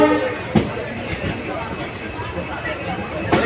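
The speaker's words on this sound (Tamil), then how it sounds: "ட்ரெயின் அடிச்சு போயிட்டு இருக்கு" Passenger train running on a trip to Thenmalai, a continuous rumbling roll with periodic clunks and rattles of the carriages, heard from on board with voices and chatter mixed in.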